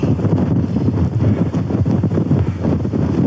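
Strong wind roars at a mountain summit during a snow storm, buffeting the microphone close up in continuous loud gusts.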